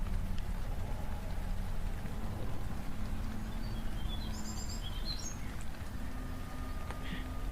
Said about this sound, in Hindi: तीस मिनट बाद अब हमें बाहर पक्षियों के चहचहाने की आवाज सुनाई देने लगी थी।